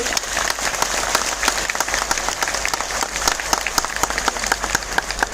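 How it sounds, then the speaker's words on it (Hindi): Dense, steady applause from an audience fills the whole stretch, with no pause and no talk over it, at a product demonstration event. "एक बार जबरदस्त और दिल से तालियां हो जाए इस व्यक्ति के लिए।"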